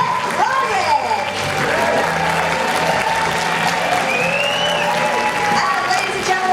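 A comic convention crowd applauds and cheers the Sabrina, The Teenage Witch cast at a reunion panel in Liverpool, continuous loud clapping with voices and shouts mixed throughout.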